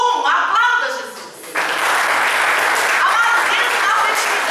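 A church congregation at a sermon on affection and sexuality for couples bursts into applause for Jesus. A voice speaks over the opening moments, then broad, steady clapping fills the rest, moderately loud and sustained.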